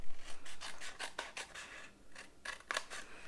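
A tool scores lines into paper for a shadow box, producing a quick series of close, dry scratching strokes with short pauses between them.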